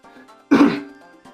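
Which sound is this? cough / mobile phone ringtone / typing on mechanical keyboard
cough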